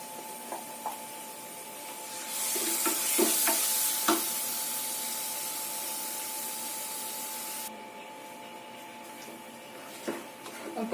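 Ground onion-tomato masala paste goes into a hot pan for a paneer and mushroom curry, giving a steady loud sizzle with scraping stirs and a few clinks that eases down to a quieter hiss.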